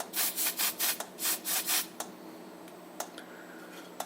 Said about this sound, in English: spray the combo detector